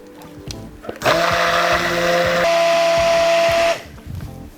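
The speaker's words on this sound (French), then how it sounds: "nous allons maintenant passer dans un bec verseur et avec le mixeur plongeant," Immersion blender emulsifying chocolate cream in a pouring jug, a loud steady motor whine that starts abruptly, shifts pitch slightly midway, then cuts off, with quiet kitchen sounds before and after.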